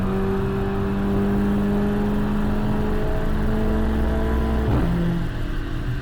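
An Audi S3 MQB on a dyno during a stage one tuning session, engine pulling loud and steady with rising whining tones, then a sharp gear change near the end drops the pitch.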